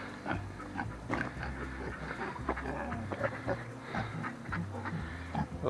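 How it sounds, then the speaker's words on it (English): A pig eating near a fence, with snuffling, grunting and chewing sounds, close and moderately quiet, in an outdoor pen with faint background noise. "What are you eating, pig?"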